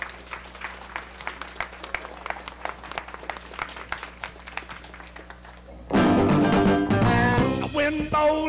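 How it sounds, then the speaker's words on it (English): Applause from a 1979 show audience for a singer, a crowd of scattered claps that carries on for several seconds before loud music with singing takes over. "let's give him a warm round of applause"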